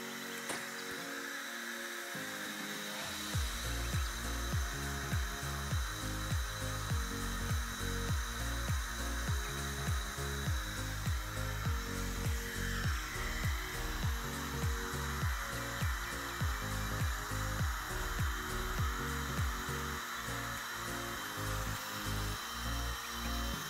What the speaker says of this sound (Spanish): Ahora prendemos el oxígeno, le damos todo el pase del oxígeno